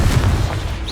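Confringo blasting spell fired in the Hogwarts Legacy video game, a dense low booming burst that rolls through the whole second, loud and full, with a faint rising whoosh near the end.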